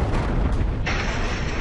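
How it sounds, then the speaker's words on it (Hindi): A deep, rumbling explosion from an airstrike on a weapons depot in Gaza: a sustained, loud roar of broadband blast noise that swells sharply partway through and keeps thundering to the end, with no voices. "गाजा की दूसरी जगह आतंकी हथियारों का गोदाम टारगेट, धमाका।"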